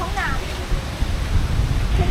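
A waterfall beside an outdoor eating spot in autumn Fukuoka, Japan, gives a constant, fairly loud roar, with a brief voice over it near the start.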